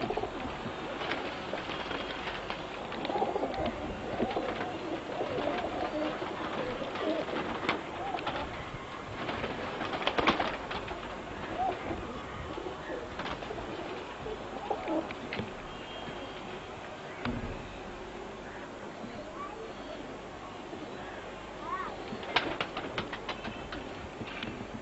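Pigeons in a loft coo steadily throughout, their soft, rolling calls layered over a constant ambient hum, with a few louder bursts and faint background noise.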